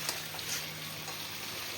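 Onion and capsicum frying in a pan, a faint, steady sizzle with a soft crackle running evenly under a low hum.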